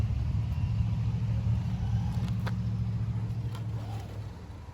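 A small electric motor whines and rumbles steadily as a restored 1999 Kyosho Peugeot 206 WRC RC car drives off-road over rough ground, with occasional scrapes and knocks from the terrain.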